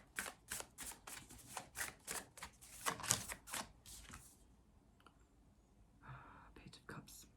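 Tarot cards being shuffled and drawn: a rapid, steady run of close, crisp riffling bursts for about four seconds, then a quieter pause and a few soft slides and taps as a card is pulled, with faint breathy noise.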